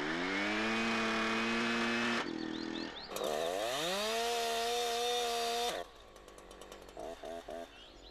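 A Husqvarna chainsaw runs loud and close, revving up and down before the chain brake snaps on and the engine note drops away, leaving a few sputtering, clattering idle pulses.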